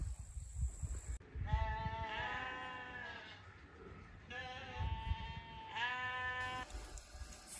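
Sheep bleating on a farm, several drawn-out wavering bleats repeating across the stretch, fairly close and clear, with faint background sound between calls and no speech.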